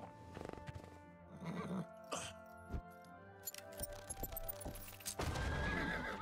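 Horse in a fantasy video game: a loud whinny followed by clip-clopping hooves and jingling tack, with sharp game effects and a burst of louder action near the end.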